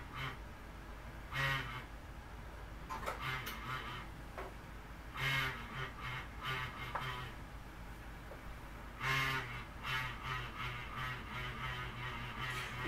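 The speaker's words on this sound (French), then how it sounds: "Il cherche à fonctionner, c'est le ventilateur qui a de la misère." The struggling fan of a Coca-Cola mini refrigerator gives off repeated squeaky, honk-like tonal bursts at irregular intervals over a low, constant hum, faint and close, with no speech.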